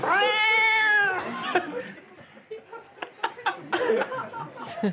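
A cat gives one long, drawn-out meow up close, then chuckling and laughter follow in short bursts.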